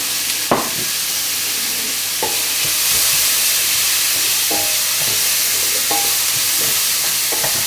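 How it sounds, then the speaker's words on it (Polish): Steady, loud sizzling of onions frying in a pan, with occasional scraping and stirring clinks throughout. "Smażę cebulę."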